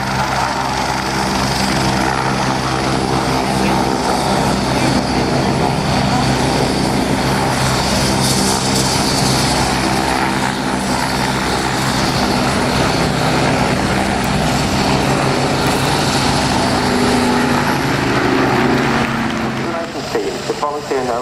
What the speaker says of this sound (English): give the pilots a wave as they come in for the bomber break